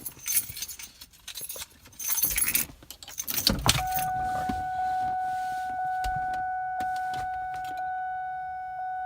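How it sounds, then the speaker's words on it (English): Keys jangle and clink near a 1999-2004 Ford Mustang, then the engine cranks and settles into a steady idle while a steady electronic chime tone rings on inside the car. "let me show you guys that it starts right up"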